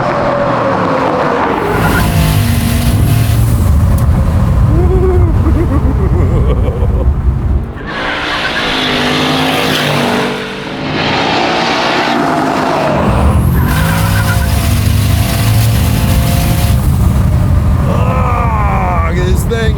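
A twin-turbo 1,250 hp all-wheel-drive Ford Raptor pickup's engine revs hard and roars through repeated bursts of acceleration, with tires squealing and people talking loudly over it.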